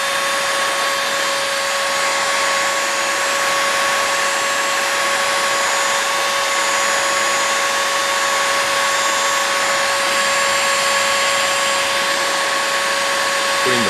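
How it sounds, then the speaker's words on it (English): A heat gun blows continuously while warming a trough, a steady, loud whooshing drone with a constant whine that never changes in level or pitch. No voices. "I'm using a heat gun, and I'm just heating up that trough a little bit."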